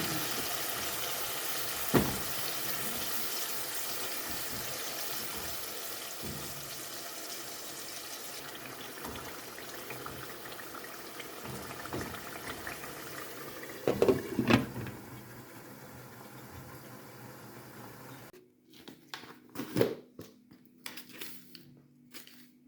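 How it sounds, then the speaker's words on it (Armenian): Cold water pours steadily into a cooking pot while lenten dolma is prepared, a continuous close trickling gush broken by a few brief clanks and splashes near the end. "Ավելացնենք սառը ջուր"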